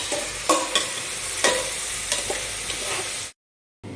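Food frying in a cooker and being mixed well, with repeated spoon scrapes over a steady sizzle, then a brief silent gap before the sizzle returns.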